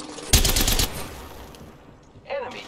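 A short, loud burst of rapid gunfire in the game Apex Legends, followed by a quieter fading stretch and a brief voice near the end.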